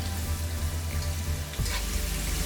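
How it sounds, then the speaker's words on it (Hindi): Onions frying in a pan for beef Kabuli pulao, a steady, moderately loud sizzle with one clattering stir near the end and no talking. "तो हम इसको जस्ट 2 मिनट के लिए फ्राई कर रहे हैं।"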